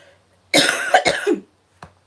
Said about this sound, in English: here I go with the coughing